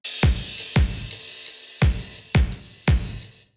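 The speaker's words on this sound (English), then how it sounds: "the sample kicks" Sampled kick drums from a Logic production session, played solo: six deep, punchy thumps with a falling low boom and a bright click on top, in an uneven groove.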